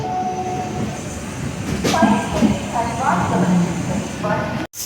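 An express train rumbles and clatters steadily, building slowly as it pulls out from platform 3 of a station in India, with someone talking over the noise and occasional metallic squeals.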